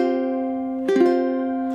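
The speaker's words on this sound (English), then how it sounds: "Number 5 is the suspended 4 chord." A single ukulele suspended fourth chord rings out in one strum, sustained and clear, decaying slowly on its own with a brief touch of string noise midway.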